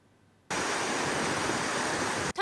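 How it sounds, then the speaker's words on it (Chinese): A swollen mountain river rushes past a temporary bridge, carrying mud and rocks after heavy rain. It cuts in suddenly as a loud, dense, continuous roar and holds steady until the end. "湍急河水夹杂大量土石，滚滚往下流"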